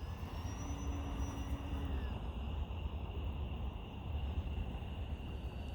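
Flite Test Simple Stick RC airplane flying at night, a steady electric motor drone with a faint high whine, heard continuously at moderate distance without talk.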